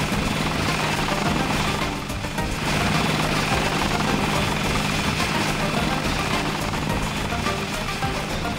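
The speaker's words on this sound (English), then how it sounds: "Hear a helicopter or something." Steady helicopter rotor and engine drone inside the Deus Ex video game, a dense continuous rumble filling the whole stretch with a brief dip partway through, with faint ambient game sounds and some talk over it.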